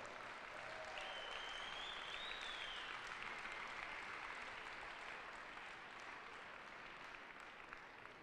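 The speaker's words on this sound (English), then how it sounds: "They deserve a round of applause as well." A crowd at a varsity high school senior night game applauds the seniors, steady clapping filling the space for several seconds, fairly distant and even throughout.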